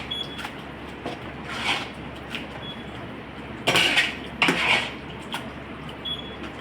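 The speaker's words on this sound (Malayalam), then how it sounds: "ഇത് നല്ലതുപോലെ ഒന്ന് ഇളക്കി മിക്സ് ചെയ്തെടുക്കുക." A spoon scrapes and clinks against a cooking pot while biryani masala is stirred and mixed for chicken biryani, in irregular close bursts with two louder scrapes near the end, over a low steady hum.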